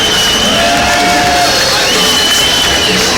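Broad roar of a boxing arena crowd cheering and applauding for fighter Louie Espinoza, sustained and loud, with a couple of steady tones and faint babble running through it.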